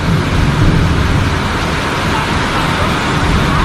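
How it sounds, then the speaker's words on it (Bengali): Dense, steady roar of heavy rain drumming on a tin roof, loud and continuous throughout with no pauses. "এই ওপরের টিনে যখন বৃষ্টিগুলো পড়ছে না তখন"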